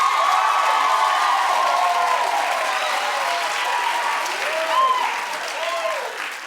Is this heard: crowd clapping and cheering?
yes